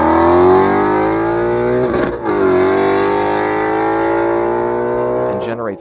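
A 2017 Shelby GT350 with a 5.2-liter Voodoo V8 sounds loud and close, its harmonic tone holding high before a sharp break and then climbing again, while a voice is faintly audible.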